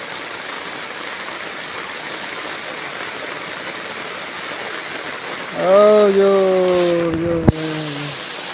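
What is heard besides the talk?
heavy rain pouring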